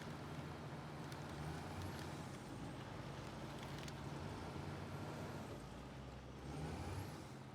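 A Duramax diesel truck with an Allison 6-speed transmission rumbles steadily in a driving game, a low continuous engine drone under a hiss, with faint whistling squeals rising briefly now and then.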